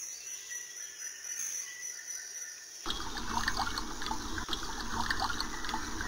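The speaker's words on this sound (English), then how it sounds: "Now we need to water the seeds so they will grow." Cartoon-style water pouring as seeds in a garden of carrots and lettuce are watered; a soft steady trickle starts about halfway through and continues, close and moderately loud, with no talking.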